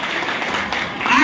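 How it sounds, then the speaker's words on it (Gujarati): Audience applause breaks out at a Gujarati devotional song performance about Krishna, a short burst of dense clapping that swells slightly toward the end. "જોરદાર તાળી થઈ જાય કૃષ્ણ."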